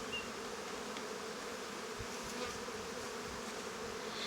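A thick, continuous buzz of many honey bees fills the air, steady and close with no voices.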